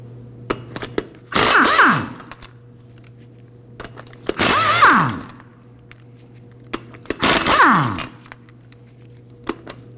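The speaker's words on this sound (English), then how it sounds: "We can go ahead and remove the lug nuts with a 19mm." A power tool with a 19mm socket spins lug nuts off the front wheel of a 1993-2001 Subaru Impreza. Three loud, close bursts of about a second each rise in pitch, separated by quiet pauses with small clicks.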